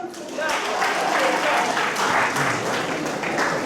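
An audience at a nurses' and midwives' union conference in Uganda claps together, a dense, fairly loud wash of applause that holds steady for a few seconds.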